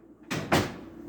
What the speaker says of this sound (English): what door is so scary?